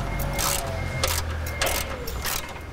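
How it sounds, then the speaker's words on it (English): Screws are driven out of a bracket under a Ford Powerstroke 6.7 pickup with a power driver, heard as several short whirring bursts close by. "in order to do that, we have to take these screws out."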